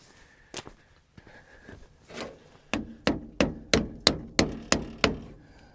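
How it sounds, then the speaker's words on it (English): Parts being hammered onto an engine-swapped 1975 Chevrolet Silverado: after a few scattered knocks and scrapes, eight loud, sharp metallic hammer blows land in a steady rhythm, close to the listener. "Hammer them on upside down."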